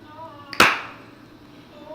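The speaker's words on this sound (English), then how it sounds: "We gotta clap." A single sharp hand clap, close and loud, with a faint voice murmuring softly in the background before and after.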